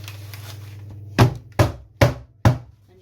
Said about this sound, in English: just tap it on the side to make sure it's properly even and flat